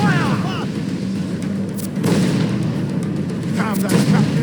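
Ship cannon fire in the pirate game Assassin's Creed 4 Black Flag, heavy booms rolling under a continuous battle din, with voices shouting over it.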